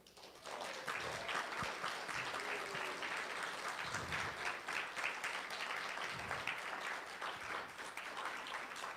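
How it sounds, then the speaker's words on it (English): A church congregation applauds the hospitality and welcome teams during a Sunday service, with sustained, dense clapping from a large crowd filling the room at steady loudness throughout. "So those of you who are here on those teams, please stand up and let us applaud you."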